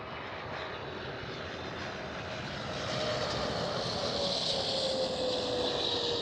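A China Airlines cargo jet at Schiphol roars past, its engine noise broad and steady, swelling louder midway with a thin whine sliding slowly downward as it goes by, no talk.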